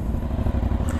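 Steady, deep idle of an Aprilia Shiver 900 motorcycle engine, a low cavernous rumble heard up close and alone for a brief moment.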